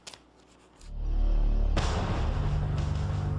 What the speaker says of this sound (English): And that's a gunshot.